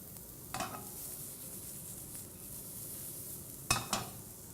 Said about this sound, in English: We'll add those really thinly sliced sort of fennel